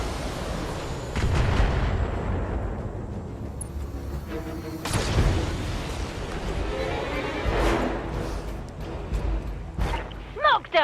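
Weapon fire from the video game Battletech slams into an enemy mech, heavy booming blasts and impacts rolling through the scene at several points, loud and close, with a voice talking over parts of it.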